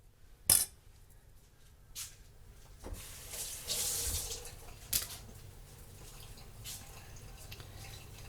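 Water from a kitchen tap runs faintly in bursts while egg roll filling is prepared, with a few soft splashes and clinks against the sink, quiet and close, no talking.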